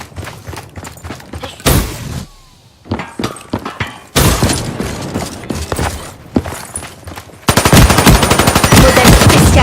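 Rapid gunfire from the Model 54 weapon in Black Ops 3 multiplayer Domination, loud close bursts of shots broken by short pauses, ending in a sustained dense volley with no speech.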